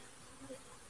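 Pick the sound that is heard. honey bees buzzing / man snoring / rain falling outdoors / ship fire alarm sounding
honey bees buzzing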